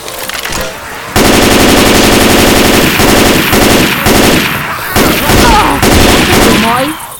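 Loud, rapid bursts of automatic gunfire in Left 4 Dead 2, broken by short pauses, with sharp metallic clicks between volleys.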